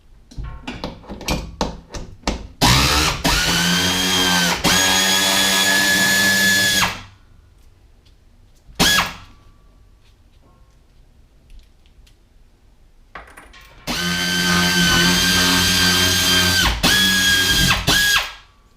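Power drill driving bolts into a new Reelworks air hose reel, loud sustained whirring runs of several seconds broken by a short burst and a quiet pause, with a few clicks and clatter between runs.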